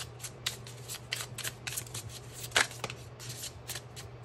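Tarot cards are shuffled by hand in a series of quick, crisp riffling bursts, close and fairly quiet, repeating in an uneven rhythm over a low steady hum.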